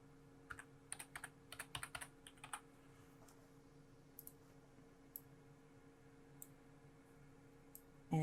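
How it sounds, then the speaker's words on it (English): Typing on a computer keyboard while working in Adobe Illustrator, quiet close clusters of key clicks in short bursts with pauses, then a few isolated taps. "I'm going to type out my welcome message"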